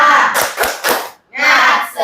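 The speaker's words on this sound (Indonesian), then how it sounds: "Tepuk semangat." A classroom of pupils does a rhythmic spirit clap led by their teacher. Three sharp claps come in quick succession, then a brief pause, then a longer burst of clapping and chanting voices.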